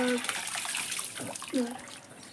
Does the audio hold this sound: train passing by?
no